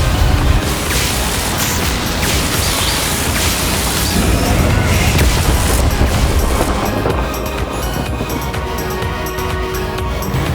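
A long, dense roaring blast from a Confringo spell in Hogwarts Legacy, loud and sustained with rumbling debris and crackle throughout, easing slightly near the end.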